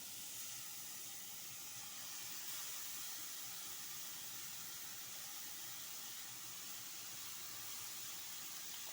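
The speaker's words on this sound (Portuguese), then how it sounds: "agora eu coloquei um pouquinho de óleo e coloquei alho, que agora eu vou refogar a nossa abobrinha" Grated zucchini sautéing with garlic in oil in a pan, a steady broadband sizzle and hiss that continues evenly throughout, with no voices.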